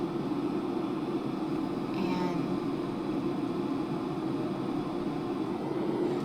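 Portable white noise machine on its Z sound setting: a steady, dense rushing noise, continuous and moderately loud, with a brief faint voice near the start.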